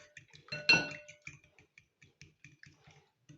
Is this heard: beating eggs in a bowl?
yes